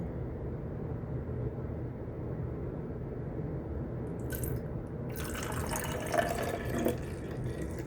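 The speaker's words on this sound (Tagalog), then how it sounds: "kunin natin yung tubig. And then, ilagay natin siya sa container." Water is poured into a container over a steady low background hum, with a faint splashing trickle appearing midway and building briefly before trailing off.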